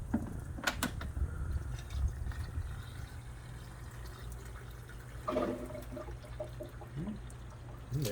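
Coolant poured into the radiator of a 1959 Cadillac, a steady low trickling and gurgling of liquid running close by, with a brief burst of bubbling partway through.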